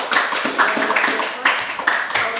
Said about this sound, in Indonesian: Tepuk tangan yang mulia buat teman-teman.